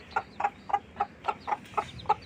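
Naked neck chickens kept in a rooftop coop cluck in a steady series of about eight short, evenly spaced calls, close and clear against a quiet background.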